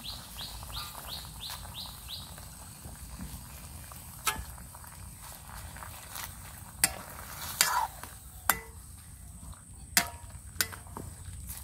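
Pipul greens dropped into a hot pan with green chilies give a faint, steady sizzle, broken by several sharp clinks of a stirring utensil against the pan, while birds chirp in the background.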